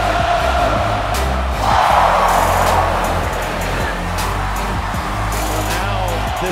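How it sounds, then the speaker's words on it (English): A large football crowd roaring at Neyland Stadium in Tennessee after a touchdown, a dense continuous wall of cheering that swells around two seconds, with a commentator talking over it. "Listen to this crowd."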